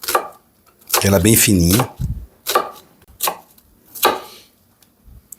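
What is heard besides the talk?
knife chopping onion into brunoise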